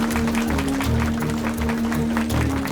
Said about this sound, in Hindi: ये तालियां किस लिए बजा रहे हैं?